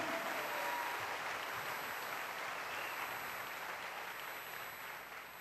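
A church congregation applauds during a Spanish-language sermon, a steady wash of clapping filling the room and tapering slightly toward the end, with no voices over it.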